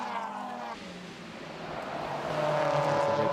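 TCR touring race cars battle for position at Croft circuit, their engines roaring loud and continuous as they pass. The pitch sweeps through gear changes and builds toward the end.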